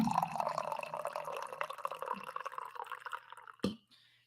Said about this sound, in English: I need to pour some coffee.